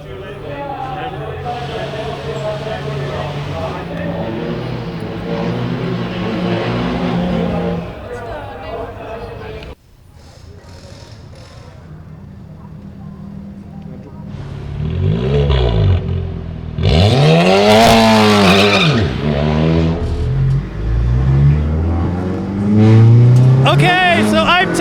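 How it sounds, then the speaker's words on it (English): A VW Golf GTI TCR race car on a lap of the Hockenheimring, its engine loud and close from inside the cabin, droning at first, then revving hard with repeated rising and falling sweeps through the gears as it accelerates. "I'm taking a taxi lap in the Golf GTI TCR on the Hockenheimring racetrack"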